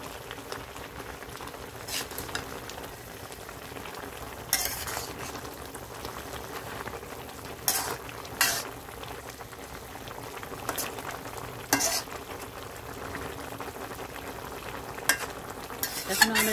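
Malabar spinach leaves cook in a pan with salt and a little water while a utensil stirs them, giving a steady low bubbling and simmering hiss broken by several sharper scraping stirs, close and moderate, with no talking.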